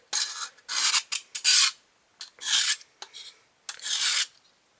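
Quick, harsh rasping strokes of a knife drawn through an Accu Sharp 4-in-1 handheld sharpener come in short bursts with brief pauses between them, loud and very close.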